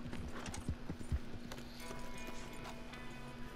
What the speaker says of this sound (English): get on your horse, haul ass over here to the burned town